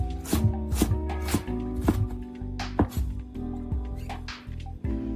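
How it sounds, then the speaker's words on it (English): Knife chopping green onions into scallions on a cutting board, a close, steady series of crisp thwacks in a quick rhythm, with faint background music and no talking. "prepare 2 or 3 green onions, cut off the white part, and then chop it into scallions"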